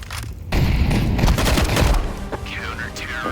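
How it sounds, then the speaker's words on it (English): Pistol fire in a video game match: a loud, dense burst of rapid shots and booming impacts that lasts a second or two, with quieter crackling afterward. "Sounded like he had a pistol."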